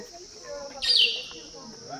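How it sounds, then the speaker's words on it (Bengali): A bird gives a brief high chirp over a steady insect-like hum in the background. "সুন্দর পাখির কিচিরমিচির করছে"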